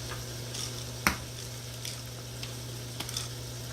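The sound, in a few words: brown stew chicken sauce with ketchup boiling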